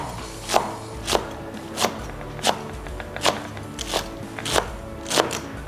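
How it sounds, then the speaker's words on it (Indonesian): A knife slices celery leaves rhythmically on a cutting board, about ten crisp, evenly spaced strikes, close and clear, with no voices. "kita mau iris-iris daun seledrinya"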